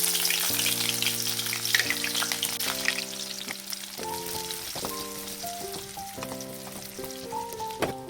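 Onions fry in hot oil with a steady hissing crackle, while a melodic tune of sustained notes plays over the sizzle throughout.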